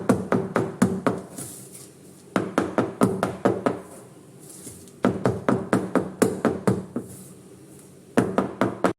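Repeated sharp knocks of a cake tin of wheat cake batter tapped against a hard surface, coming in quick bursts of several taps with short pauses between, close and clear.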